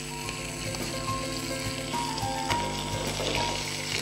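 Onions, green chillies and curry leaves fry in hot oil, giving a steady loud sizzle with occasional crackles and stirring scrapes, heard alone with no talk.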